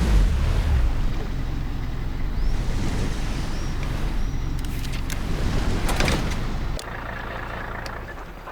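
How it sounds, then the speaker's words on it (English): Boat engine rumbling while pulling up to a dock in Hell Let Loose: Vietnam, a steady close drone with mechanical clunks that drops abruptly to a quieter idle near the end, no speech. "Pull the boat up to the dock and switch the engine off."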